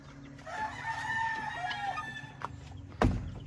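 A rooster at a gamefowl farm crows once in a drawn-out call, mid-distance, with clucking and other fowl sounds around it and a sudden loud bump near the end.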